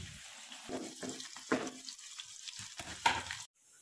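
Finely chopped onion frying in a pan, with soft crackling sizzle and stirring scrapes in uneven bursts, fairly quiet and close, ending abruptly.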